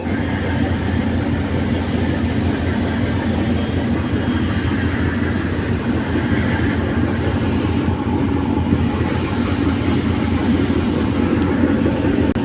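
The river launch Adventure 9 overtakes the launch Manami, a loud, steady, deep engine rumble with rushing water noise that holds without a break.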